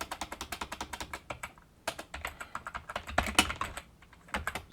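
Typing on a QWERTY computer keyboard used for 8-dot Braille input, a close, steady run of rapid key clicks with brief pauses and a few louder bursts of strokes.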